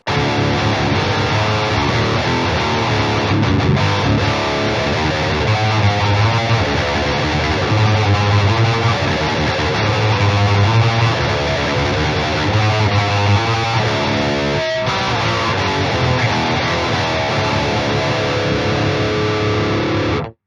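Distorted electric guitar riffing through a Taurus Servo 3 enhancer pedal, active pickups driving it into overdrive, loud and continuous with sustained chords and picked notes and no voices.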